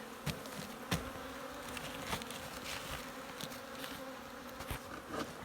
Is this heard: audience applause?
no